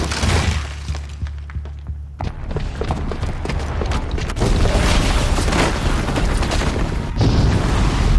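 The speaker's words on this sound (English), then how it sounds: "the booby trap on the bomb downstairs is gonna get set off" Bomb detonation from the video game Horizon Zero Dawn: loud, dense booming blast with shattering debris, rumbling low thuds and sustained crashing that swells midway and keeps roaring throughout.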